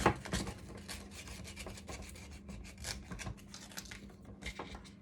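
A ball-jointed doll part being sanded with 100 grit sandpaper: quick, close, gritty rubbing strokes in an uneven rhythm, faint overall and with no talking.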